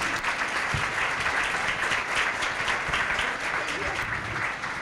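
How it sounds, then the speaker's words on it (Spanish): An audience at a circular-economy pitch event in a museum applauds in a steady, dense wash of clapping, with voices talking faintly over it. "Chicas, otro aplauso."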